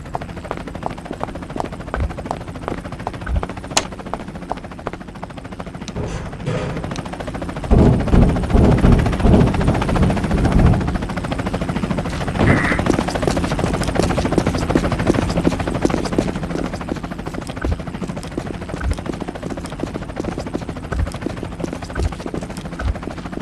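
Helicopter flying overhead in the video game Garry's Mod, a continuous rotor chop that swells louder midway and then fades, with sharp clicks and occasional game noises scattered throughout.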